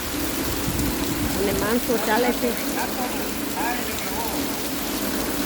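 Heavy monsoon rain pours down in Porbandar, Gujarat, a dense, even hiss throughout while someone talks over it.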